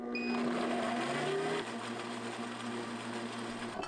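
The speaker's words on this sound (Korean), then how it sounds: "믹서에 양파, 식은 감자, 물 100ml 넣고 곱게 갈아주세요." A blender grinding onion, cooled potato and water whirs loudly with a high, steady hum, then drops in pitch to a lower, continuous grinding drone.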